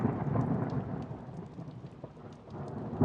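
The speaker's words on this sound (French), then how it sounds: "L'orage a éclaté cette nuit." A thunderstorm with steady rain on a surface, dense patter throughout with low rolling thunder beneath, continuous and moderately close.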